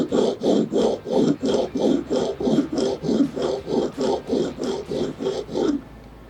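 A steel chisel is rubbed across a sharpening stone in about fifteen steady, even rasping strokes, close and loud, with no talking, ending in quiet.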